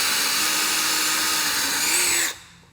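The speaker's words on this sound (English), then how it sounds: "I prefer to drill from the front side to the back" Power drill boring a hole through a wooden kitchen shelf propped on a bench, a loud, steady high whine with a slight pitch rise near the end before cutting off abruptly.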